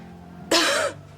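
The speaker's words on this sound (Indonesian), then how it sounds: "Saya perhatikan semakin hari batuk kamu semakin parah" A single short, harsh cough bursts out close by, about half a second long, against a quiet room background.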